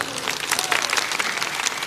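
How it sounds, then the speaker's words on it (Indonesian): Church congregation clapping together during a sermon, a brief dense burst of many hands applauding at close range, with no voices over it. "Ini tepuk tangan apa?"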